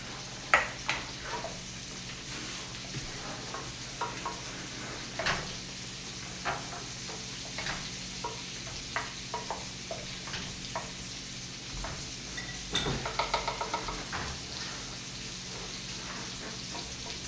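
Moroccan meatballs sizzling in a pan, a steady close crackle with scattered scrapes and clicks as they are turned, and a busier burst of spattering near the end, with no voices.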